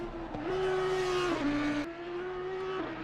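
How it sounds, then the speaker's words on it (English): Race car in a sim racing event at Mount Panorama spins off with tire squeal, a loud sustained engine drone shifting pitch through the slide, with a sharp break near the end and no talk over it. "Another car is spun off somewhere."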